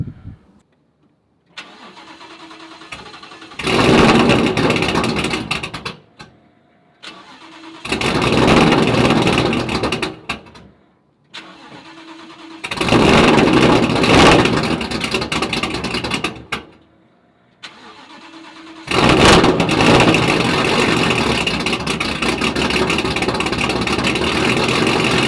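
A car engine after a direct-injection delete tune, recorded from the back of the car, cranks and starts repeatedly: four loud bursts of cranking and rough running separated by brief silences, with the last one settling into steady running.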